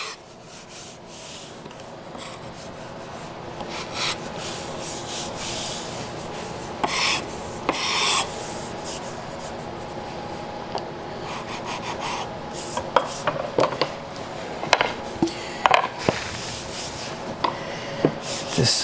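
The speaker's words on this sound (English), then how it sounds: "Just using the chisel as a scraper." A wood chisel used as a scraper to clean dried glue off a veneered wooden box lid, giving repeated close, dry rasping scrapes in uneven strokes, growing sharper and more clicky toward the end.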